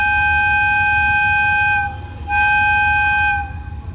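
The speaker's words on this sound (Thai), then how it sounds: "เสียงวีดคลุยนะฮะ เป็นเอกลักษณ์ของหัวรถจักรฮิตาชินะฮะ" A Hitachi 4519 diesel locomotive in Thailand sounds its flute-like whistle: two loud, steady, pure-toned blasts, the first long and the second shorter, over a constant low engine rumble.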